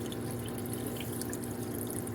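Water pouring steadily from an Aquaclear hang-on-back aquarium filter, a soft continuous trickle and splash with faint drips, close and quiet, with no voices.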